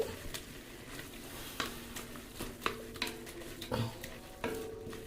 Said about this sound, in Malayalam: എന്നിട്ടോ നല്ലോണം തിളച്ചിങ്ങനെ വെന്ത് വരുന്നുണ്ട്.